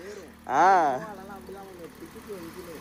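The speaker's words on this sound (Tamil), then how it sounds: "3 சிலிண்டர் சவுண்ட் பார்த்தீங்கன்னா இப்படி தான் இருக்கும், கேட்டுக்கோங்க." A three-cylinder Maruti Swift engine briefly revs up with a rising harmonic whine, then drops back to a rough idle, with faint talking in the background.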